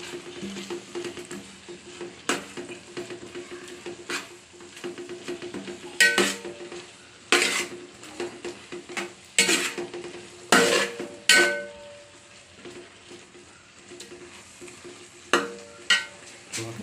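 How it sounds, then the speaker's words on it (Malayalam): Ground coconut paste being stirred in a cooking pan for a Kerala-style dish, with repeated scraping and clinking strokes of a spoon against the metal over a low frying sizzle, close and clear with no talking. "അരച്ച് വെച്ചിരിക്കുന്ന തേങ്ങ ഇളകി കൊടുക്കണം"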